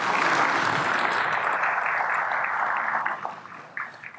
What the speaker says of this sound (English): they're deserving of another round of applause